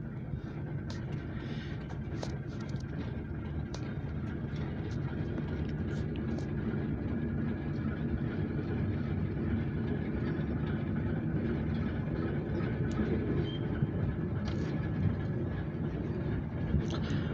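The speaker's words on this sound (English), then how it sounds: "we're actually going to see a push and pull grain hopper train actually coming." A deep, continuous rumble of a heavy push-pull grain hopper freight train rolling past, with steady clatter and faint metallic squeals over the low engine drone.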